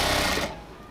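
A sewing machine stitches elastic into the waistband of a ladies' pant, a dense steady whirring run that drops off abruptly partway through, with no talk.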